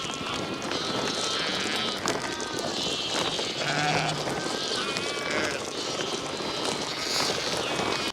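A flock of ewes bleat repeatedly over a constant noisy background, several calls overlapping at moderate distance, at lambing time.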